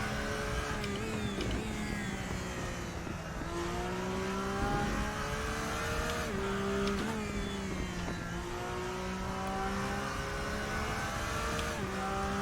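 BMW race car engine at the Nordschleife in a racing video game, a continuous loud mid-pitched drone rising and falling with gear changes and revs, with other cars faintly audible alongside and no talking.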